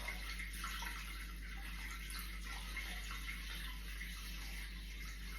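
Water pours steadily into a Thermomix bowl, a soft continuous splashing stream at a fairly faint level over a low electrical hum, with no speech.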